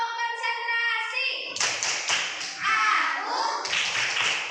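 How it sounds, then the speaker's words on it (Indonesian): A classroom of students performs a concentration clapping game, starting with a sung or chanted lead-in and then breaking into sharp, rhythmic group claps in quick bursts, close and fairly loud. "Tepuk konsentrasi."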